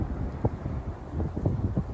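Strong gusty wind buffets the microphone at a river overlook above the Holtwood Dam on the Susquehanna River, a low rumbling roar with uneven thumps and no voices.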